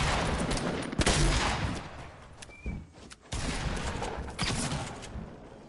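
Continuous bursts of rapid gunfire crackle and rattle from a video game, dense and noisy, with a few louder shots standing out.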